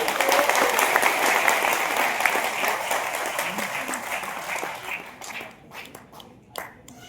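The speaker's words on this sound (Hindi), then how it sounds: "जोरदार तालियां" A seminar audience breaks into loud, sustained applause that fills the hall, then slowly thins and fades over the last couple of seconds, leaving a few scattered claps.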